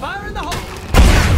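A thrown explosive detonates in the State of Decay 2 video game with a single loud, heavy blast that rumbles on, right after a voice shouts briefly.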